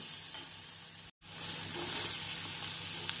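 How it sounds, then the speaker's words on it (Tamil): Chopped mango sizzles and crackles steadily in a hot frying pan over a medium flame, with stirring noises and a brief cut to silence partway through. "நாம் மாங்காய் சேர்த்து மீடியம் ஃப்ளேமில் ஒரு நிமிடம் வதக்க வேண்டும்"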